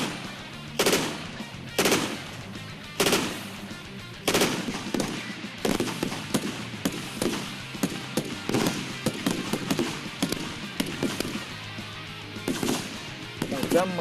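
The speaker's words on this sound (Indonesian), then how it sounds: "Marinir juga mengikuti latihan serangan amunisi tajam" Gunfire rings out as marines train with live ammunition, loud sharp shots and rapid automatic bursts cracking in quick succession across the whole stretch, with faint voices now and then.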